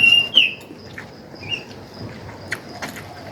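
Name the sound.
birds calling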